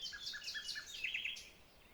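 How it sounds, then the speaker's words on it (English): Small birds chirp in the trees in a quick, repeated pattern of high, bright tweets. The calls are fairly close and clear over a faint, quiet background. "Birds chirped."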